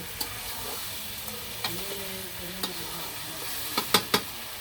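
Meat frying and being stirred in a pan for a village-style curry, a steady close sizzle broken by occasional sharp scrapes and clinks of a spoon against the pan, growing louder toward the end.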